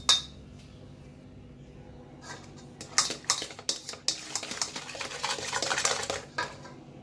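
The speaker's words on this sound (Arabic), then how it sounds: "كنخلطو جيدا وكنحاولوا نذوبوا الخميرة مع الحليب" A spoon stirs yeast into milk in a bowl, giving irregular close clinks and scrapes against the sides that grow busier and louder toward the end.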